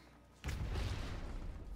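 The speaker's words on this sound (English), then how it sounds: "I heard that explosion." An explosive barrel blowing up in the video game Earthfall, a sudden loud broadband blast that hits at once and then rumbles on with sustained low roar through the rest of the moment, no talk over it.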